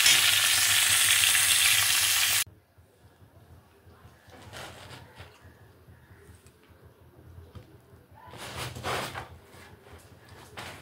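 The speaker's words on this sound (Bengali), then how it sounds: "এগুলো এখন পুরো একদম লাল লাল করে ভাজা হবে।" Cauliflower florets and potato pieces fry in hot oil in a pan. A loud, close sizzle lasts about two seconds, then drops to a softer crackle with occasional stirring scrapes and clatter.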